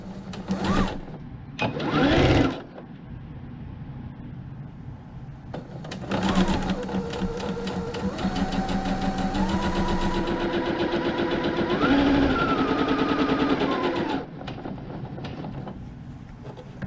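A sewing machine stitches the edges of a lavender and rice heating pad, running in short bursts at first, then in a longer continuous whirring run whose speed steps up and down before stopping.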